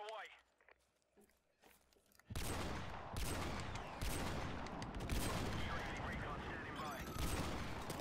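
Video game gunfire from a no-scope sniper attempt, with loud sustained bursts of shots and action noise that start abruptly after a quiet opening and continue to the end.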